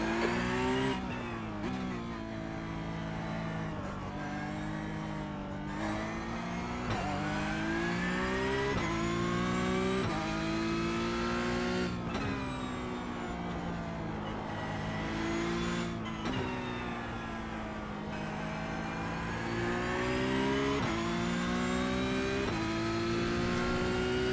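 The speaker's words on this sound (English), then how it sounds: "Take care, there's a car approaching." A Formula Vee race car in the iRacing video game, its engine note rising and falling through repeated gear shifts as it accelerates and passes, loud and steady with no voices.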